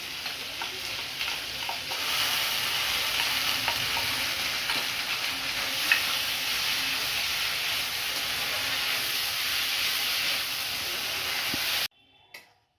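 Cumin, ginger and green chili fry with tomato in a pan, giving a loud continuous sizzle with faint stirring scrapes, cutting off abruptly near the end.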